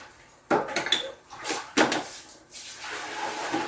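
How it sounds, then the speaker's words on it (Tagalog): A lid goes onto a pot of beef bulalo with a few close metallic clanks and knocks, two sharper hits standing out among softer handling sounds. "Takpan po natin siya."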